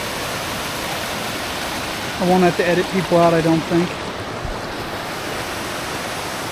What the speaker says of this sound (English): So there's the falls. This is Elk River Falls.